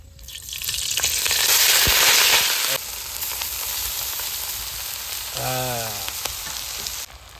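Cooked rice hits a hot pan with ghee, sugar, cardamom, cloves and bay leaves for fried rice, bursting into a loud hiss that settles into a steady sizzle, with a brief voice partway through.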